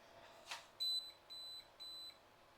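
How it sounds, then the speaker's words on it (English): A ceramic sauna heater's tip-over protection sounds a series of short, clear electronic beeps, three distinct tones in steady rhythm after a faint click, close and alone with no talking. "that's tipped over, it's beeped at me, and it's turned itself off."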